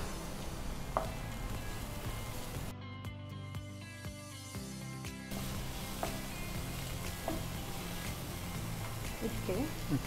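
Two small-cut chopped onions frying in a pan for lemon pepper paneer, giving a steady, moderate sizzle throughout with faint clinks and stirring, and voices talking over it.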